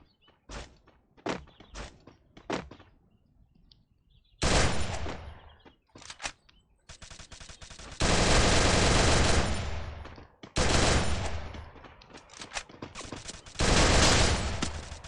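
Bursts of rapid gunfire in Free Fire, loud and close, broken up by a few single shots and short pauses.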